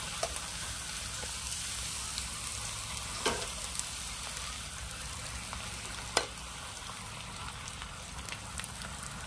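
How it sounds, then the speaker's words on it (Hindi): Steady, dense sizzling of potato papad frying in hot oil in a kadai, a continuous crackling hiss at close range with a few sharper pops, no voices. "हम उसमें अब पापड़ को डालते हैं।"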